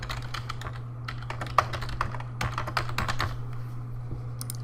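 Rapid, continuous clicking on a computer keyboard as a file name is typed, close and clear over a steady low electrical hum.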